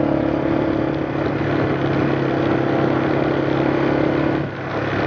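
A four-wheeler ATV engine idles steadily at lowered RPM, a continuous close mid-pitched drone with a slight dip near the end and no talking.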